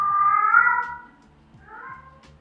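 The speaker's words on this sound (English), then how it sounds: "My cats cry when they crave attention" Pet cats meow loudly for attention, one long plaintive cry followed by a fainter second meow, close by over a low rhythmic background hum.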